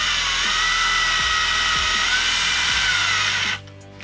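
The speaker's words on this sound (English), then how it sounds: "Take an additional hook and put it in your drill. Put it on a low setting and just start screwing it in." A power drill on a low setting drives a hook into wood in a workshop, giving a steady, loud, close whine with slight speed wobbles for about three and a half seconds before it stops.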